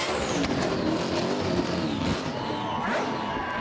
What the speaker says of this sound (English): Listen to the revs.